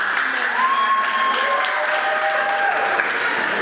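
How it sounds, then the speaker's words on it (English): Audience applause at a tech empowerment event for girls, steady dense clapping filling the whole stretch with a faint tonal whine running through it. "please give us a hand of applause"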